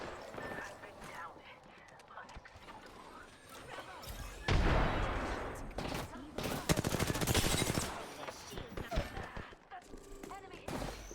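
Sustained gunfire rattles in Apex Legends with rapid automatic bursts and heavy impacts that swell loudly mid-clip. Voices talk over the shooting.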